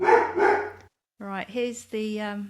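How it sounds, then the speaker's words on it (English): A nearby dog gives two loud barks, then a person starts talking. "Apologise for the dog."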